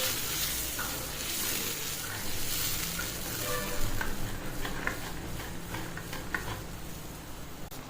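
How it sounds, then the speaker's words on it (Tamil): Chopped onions and green chillies fry in hot oil for a spicy Andhra-style green chilli kuzhambu, giving a steady, dense sizzle with occasional stirring clicks that carries on throughout. "வெங்காயம் பச்சை மிளகாவும் நல்லா வதங்கிடுது பாருங்க. எண்ணெயிலே நல்லா வதங்கிடுது."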